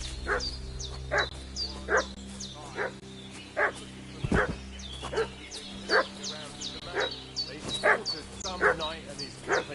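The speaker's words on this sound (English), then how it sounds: "What's that dog making such a fuss about?" A dog in Kingdom Come Deliverance II barks in repeated sharp bursts at a steady pace, with birdsong and an ambient outdoor bed around it and a voice speaking over parts of it.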